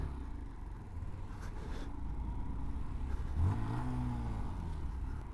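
A Honda Monkey motorcycle engine hums along steadily, then opens up with a brief rising rev as it accelerates, close and moderately loud.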